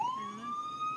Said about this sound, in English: Okay, fire truck. Ambulance.